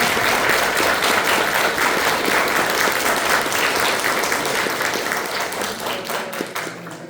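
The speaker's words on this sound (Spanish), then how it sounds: "pues nuevamente le damos un aplauso" An audience applauds after a lecture on quantum technologies in nanoscience at a university anniversary event, dense steady clapping filling the room and tapering slightly toward the end.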